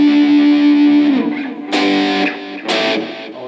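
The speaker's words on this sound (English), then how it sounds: "That's the dry distorted sound." A distorted electric guitar through a very small amp, dry with no reverb, rings out a sustained note, then two sharp strummed chords follow, each buzzing briefly before fading. Gritty and fairly loud.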